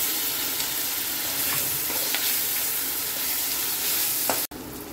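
Ginger garlic paste frying with browned onions for a spicy prawn and potato curry, giving a dense continuous sizzle with faint stirring clicks before it cuts off abruptly near the end.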